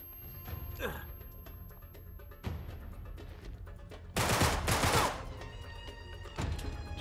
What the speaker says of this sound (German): Die Waffe ist kacke, weil die eine Automatik ist.